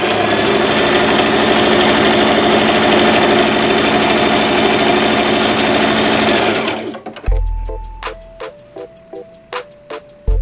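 A sewing machine stitches a blue strapless trapezoid dress, running fast and continuously up close, then slowing into a series of separate short bursts and stops near the end.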